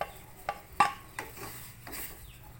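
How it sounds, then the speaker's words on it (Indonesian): A utensil stirs and scrapes ginger and tomato in a pan, giving a few sharp clinks and rubbing strokes over a faint sizzle, close and without talk. "Kita masak sampai lunak beberapa menit aja."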